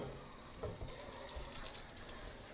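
Water runs steadily from a tap into a dog's bowl, a continuous hissing splash that holds at an even level throughout.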